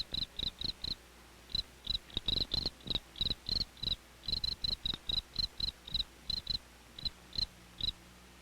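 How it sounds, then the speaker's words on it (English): Crickets chirp in short, steady pulsed bursts, clear and close, repeating through the whole stretch with brief pauses between trills. "The cricket makes his sound by rubbing his wings together."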